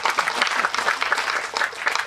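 Audience at a Tamil film audio launch event bursts into steady, dense applause, a continuous wash of many hands clapping close and loud for the whole stretch.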